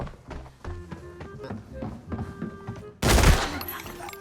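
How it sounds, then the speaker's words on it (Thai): Gunfire from the Arena Breakout video game: a steady patter of distant shots and clicks, then a sudden loud burst of close, heavy fire near the end. "ยิงแรงมากเลยว่ะลูกบาศตัวนี้"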